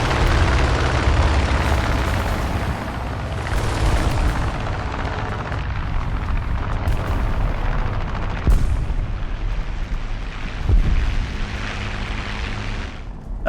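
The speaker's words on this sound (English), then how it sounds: "Throw that artillery onto the road, approaching C for them." Artillery fire in the game War Thunder booms over a constant loud rumbling battle roar, with a few heavier thuds standing out through the dense, sustained noise.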